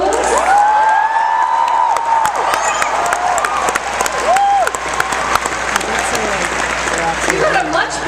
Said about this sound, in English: You got a much bigger applause than me.